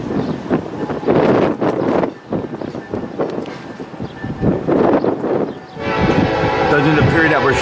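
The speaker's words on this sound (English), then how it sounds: "Single UP engine pulling what looks to be auto racks right now," A Union Pacific freight train with a single locomotive hauling auto racks rolls eastbound through Fremont, Nebraska, its loud horn sounding over the rumble and rattle of passing cars, with wind noise.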